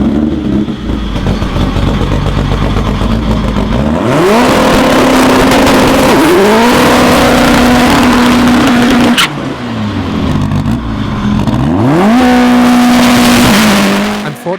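A K-Series-engined drag race car on a record-attempt run, during which its oil pump failed, screams very loudly close by, engine pitch climbing through repeated gear changes with brief drops between shifts.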